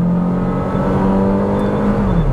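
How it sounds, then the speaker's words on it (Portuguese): SUV, a Jeep Compass Série S or Volkswagen Taos Highline, launching hard from a standstill in a drag test, its engine revving loud and rising steadily over a couple of seconds. No tire squeal can be made out. "A gente percebe que ele canta um pouquinho ali de pneu"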